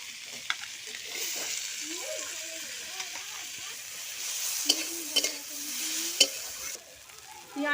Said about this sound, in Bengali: চামচ দিয়ে পাক দিচ্ছি।